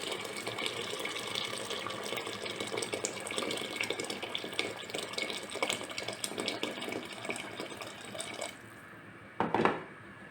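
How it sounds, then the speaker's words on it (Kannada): Hot water poured into a pot for vegetable biryani, a continuous rushing splash up close that stops abruptly, followed by a short knock. "ಒಂದಕ್ಕೆ 2 ನೀರು, ಬಿಸಿ ನೀರು ಹಾಕ್ತಾಯಿದ್ದೀನಿ."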